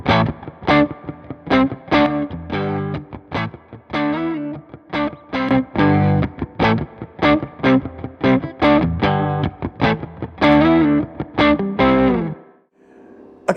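Electric guitar run through a Cornerstone Antique V3 overdrive pedal with the hot volume boost at 2 o'clock, playing punchy overdriven rhythmic strums and chords in quick bursts, loud and alone, ending in a ringing decay.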